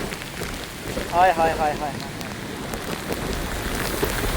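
Rain falls across hillside terrain outdoors, a steady broad patter mixed with wind buffeting the microphone, while a person exclaims repeatedly over it.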